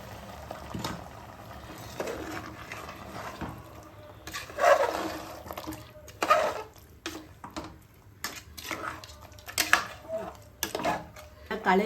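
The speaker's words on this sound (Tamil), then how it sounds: "நம்ம மிக்ஸி ஜாடியில் இருக்க தண்ணி எடுத்து இதை ஊற்றிடலாம்." Water from a mixer jar pours into a cooking pot of coconut chicken kuruma, splashing and rattling among metal utensil clinks in short bursts, fairly quiet and close with no speech.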